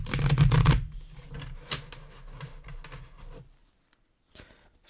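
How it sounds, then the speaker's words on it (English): Cards being shuffled in a quick riffle burst, then a softer stretch of fluttering and tapping cards, trailing off into near silence. "Think of your problem now or just your question in general while I'm shuffling the deck."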